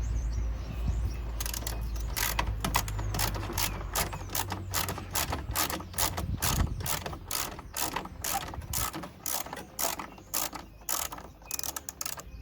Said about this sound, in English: By the way, this is a 10mm socket, so you're going to want to use a 10mm to take out this.